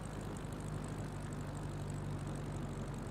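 A bush plane's propeller engine drones steadily in a flight simulator game, a constant low hum with a buzzing tone and no change in level, heard without talk.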